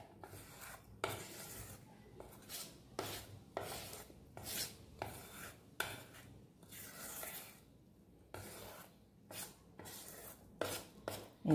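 Cake batter is mixed in a bowl with a series of soft, close scraping strokes in an uneven rhythm, each a brief swish against the bowl, quiet overall.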